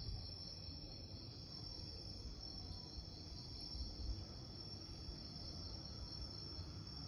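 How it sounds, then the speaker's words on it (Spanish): At night, a chorus of crickets keeps up an unbroken, faint, high-pitched chirping drone with a low ambient rumble underneath. "Escucho las notas de los grillos."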